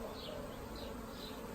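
A dense, continuous buzzing of a settled honeybee swarm, steady and fairly close, with no voices.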